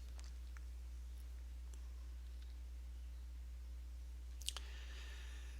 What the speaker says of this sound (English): we'll click the reports link here on the left